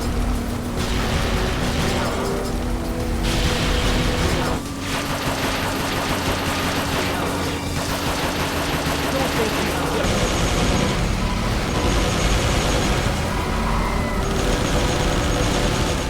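Gunshots and explosions from the 2002 Xbox racing game Maximum Chase, with a dense, steady stream of mechanical firing that runs the whole way through at a fairly loud level, shifting in texture partway through, with no one speaking.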